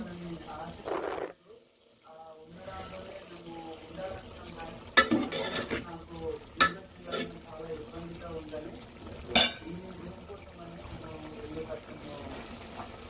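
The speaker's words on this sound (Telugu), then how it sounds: "బీరకాయ ఇలా ఉడుకుంది." Ridge gourd cooks in a pan with a soft, low simmering sizzle, interrupted by several sharp clatters and scrapes of stirring, with a brief quiet gap near the start.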